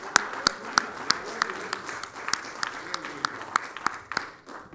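A church congregation claps for the Lord during a service, sharp distinct hand claps in a loose rhythmic pattern from several people nearby, with voices speaking and calling out underneath.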